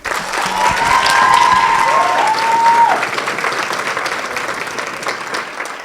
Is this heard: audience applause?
yes